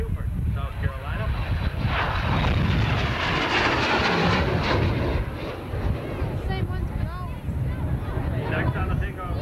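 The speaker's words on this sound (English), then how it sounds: "Next on the takeoff roll, the Amazing Harrier" An AV-8B Harrier jet on its takeoff roll at an airshow in Newburgh, NY in 1988, a loud steady engine roar with a public address announcer talking over it.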